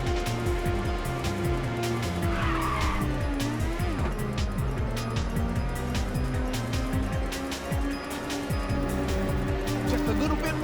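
Race cars roaring in Ridge Racer 2 on the PSP with nitrous boost: dense, loud engine whine that steps up and down through the gears continuously, with brief tire squeal layered over the steady game soundtrack.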